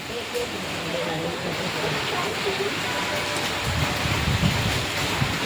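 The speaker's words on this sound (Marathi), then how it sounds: "खूप मोठा पाऊस आहे पुण्यामध्ये" Heavy rain pours steadily in Pune in a dense, continuous wash of noise, with faint voices murmuring underneath.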